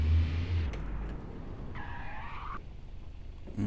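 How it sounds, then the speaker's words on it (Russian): Wheels of a VAZ 2114 locking up and skidding without ABS in the City Car Driving game, a brief tire screech rising mid-clip over low engine rumble, fading as the car slows. "поэтому слышим характерный звук, блокируются колеса"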